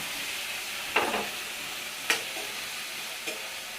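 A pan sizzling with a frying tempering for cucumber and coconut chutney, a steady soft hiss broken by three brief stirring scrapes, close and alone with no talk.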